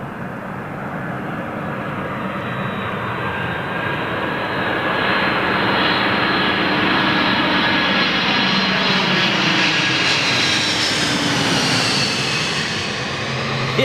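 A jet airliner with CF6 or Pratt & Whitney engines passes at London Heathrow's runway 27L with a loud, sustained roar, a thin high whine and a slowly shifting tone that builds and lingers.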